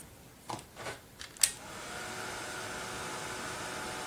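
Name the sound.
heat gun heating embossing powder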